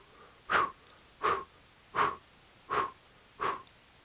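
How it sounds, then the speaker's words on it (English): Rapid, forceful mouth exhalations of kundalini yoga breath of fire, five sharp breathy bursts at an even pace about every 0.7 seconds, close and clear against a quiet room with no talking. "begin that same mouth breath of fire"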